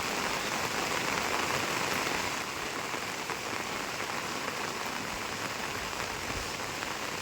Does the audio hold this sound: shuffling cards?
no